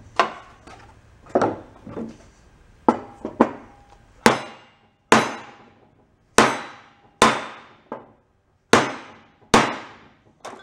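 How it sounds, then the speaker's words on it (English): Hammer blows driving a spindle down on an old scrapped John Deere, a series of about a dozen sharp metallic strikes at irregular intervals, close and loud with ringing decay. "Let's see if we could just drive that down."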